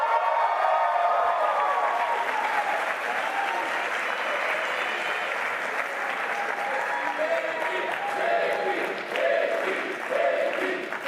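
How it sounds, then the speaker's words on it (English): A crowd applauds at a December 2025 IE master's graduation ceremony as an MBA graduate is called up, with continuous, fairly loud clapping and faint cheering and voices mixed in. "please give a warm round of applause for John Patrick Hennessy."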